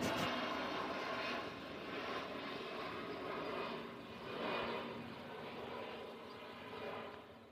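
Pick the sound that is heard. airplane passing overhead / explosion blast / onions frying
airplane passing overhead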